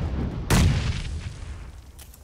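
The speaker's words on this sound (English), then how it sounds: "I'm chucking nades on the left side, okay?" A grenade detonates in the video game PUBG: one heavy, muffled boom that rumbles briefly and then fades, with faint distant pops afterward.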